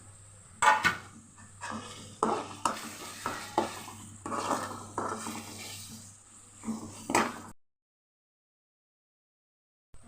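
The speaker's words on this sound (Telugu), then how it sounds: "వెల్లుల్లి పేస్ట్ వేగిపోయింది కదండి, టమాటాలు వేసేసుకున్నాం." Tomatoes fry with ginger garlic paste in a pot while a spoon stirs and scrapes, giving repeated clattering strokes over a soft sizzle, for a chicken fry pressure-cooker palav; the sound cuts off abruptly near the end.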